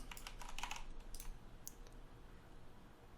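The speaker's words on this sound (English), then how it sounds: "so let's type in SEO coaching again" A search being typed on a computer keyboard: a quick burst of close, crisp key clicks, a short pause, a few more taps, then a soft click before quiet room tone.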